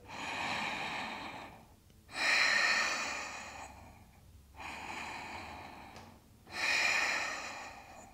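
Slow, deep yoga breathing during a vinyasa flow: three audible breath cycles, each a long airy inhale and a loud exhale, with brief quiet gaps between them, close and without speech.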